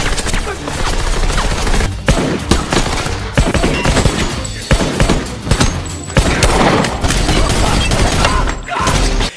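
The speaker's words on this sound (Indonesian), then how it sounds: "pasukan High Table memakai baju pelindung yang tahan peluru, hingga John Wick dan resepsionis kesulitan membunuh mereka" Dense gunfire from the action film John Wick Chapter 3 rattles in loud bursts of shots and booms, layered over a film soundtrack with brief pauses between volleys.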